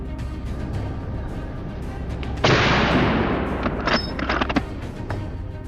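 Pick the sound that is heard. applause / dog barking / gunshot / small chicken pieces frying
gunshot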